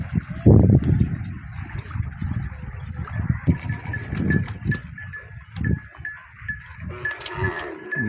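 Buffaloes and cows grazing beside a river, with low rumbling animal sounds, hoof and movement noises, and a faint bell-like tinkle in the background. No clear speech.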